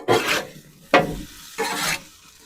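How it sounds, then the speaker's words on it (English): Pork chops with apple and squash pieces are pushed around on a hot griddle, giving three short scraping, sizzling strokes close by with quiet gaps between. "I just kind of stir them around"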